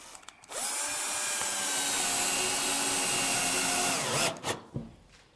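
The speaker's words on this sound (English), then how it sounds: "we're going to whack in a couple of screws" A power drill drives 30mm stainless screws into hull planking during boat construction, one long steady whirring run of about four seconds, loud and close, ending with a few short bumps and clicks.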